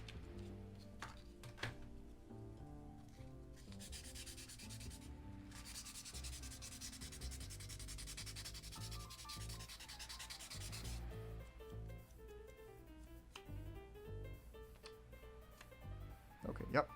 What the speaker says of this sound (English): So now I'm going to go back over with my 400 grit sandpaper.